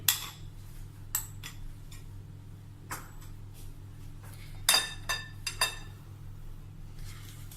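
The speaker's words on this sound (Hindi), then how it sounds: "इसको भी अच्छे से मिक्स कर लेंगे" A spoon mixing sugar into walnut cake batter in a bowl, faint scattered clinks and taps against the bowl over a low steady background hum.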